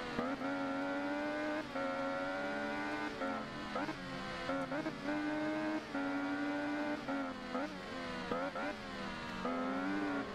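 A video-game MV Agusta Rivale 800 motorcycle howls loudly and continuously on a race track, its engine pitch rising and falling through gear changes across the whole stretch.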